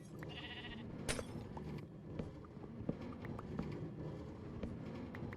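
Sheep on a wool farm in Minecraft bleat faintly among soft game ambience, with a few scattered footstep-like taps and small clicks over about five quiet seconds and no talking.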